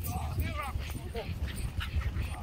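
Terriers out ratting give high whimpers and sharp yips over a low rumble, with someone speaking nearby.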